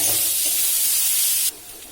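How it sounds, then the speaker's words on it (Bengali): Chopped onions hit hot oil with bay leaf, cinnamon and cardamom for a potato egg curry, a loud close hiss and sizzle that cuts off sharply partway through. "এবার আগে থেকে কেটে রাখা পেঁয়াজ কুচিগুলোকে দিয়ে ভালো করে ভেজে নিতে হবে"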